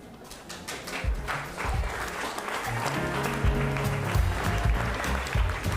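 An audience at a secondary school awards gala claps moderately, a fairly quiet spread of applause with some low thumps and a faint tone underneath.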